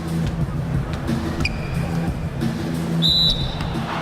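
A short, thin referee whistle in the NBA 2K17 basketball video game sounds over steady crowd and arena noise during a Boston Celtics vs Chicago Bulls playoff game.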